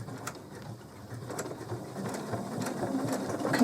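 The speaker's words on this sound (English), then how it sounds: "I'll press the foot, the control foot underneath the table, and I will stitch back over myself a couple of times" A sewing machine stitches steadily during free motion quilting, driven by a foot control under the table, giving a soft continuous whirring hum throughout at moderate, even level.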